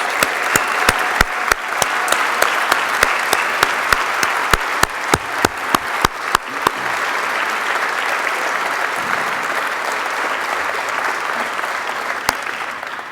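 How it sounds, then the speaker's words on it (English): Loud applause from an audience honouring a Tennessee basketball team at a press event introducing the new head coach, dense clapping with sharp individual claps standing out, thinning into a lighter patter before fading near the end. "they certainly deserve a round of applause for all they accomplished"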